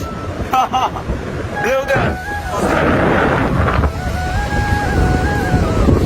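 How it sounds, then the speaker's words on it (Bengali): Strong sea wind on the beach at Cox's Bazar roars as a loud, steady rush, with people talking close by over it. "প্রচুর বাতাস"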